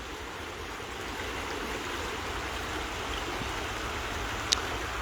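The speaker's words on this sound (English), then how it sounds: "the noise of this lovely water flowing is raising your spirits" A stream flows in an outdoor park setting, giving a steady, even rush of water that stays constant and fairly close, with no voices and only a brief faint tick near the end.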